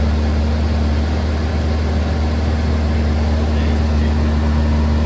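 A 1986 Nissan President V8 with a modified exhaust idles steadily, giving a constant, loud low rumble with no people talking.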